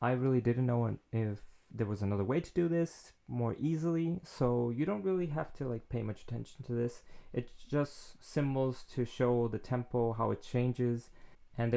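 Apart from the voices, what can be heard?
No everyday noises stand out.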